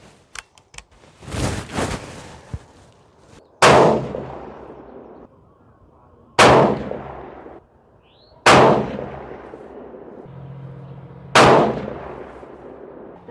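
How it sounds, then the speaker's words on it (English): Savage Model 10 GRS tactical rifle in 6.5 Creedmoor, fitted with a Tactical Rage compensator and fired at a range: four loud, sharp gunshots a few seconds apart, each with a ringing echo tail, after some small clicks and handling noises. "I'm going to go ahead and just shoot 3 rounds"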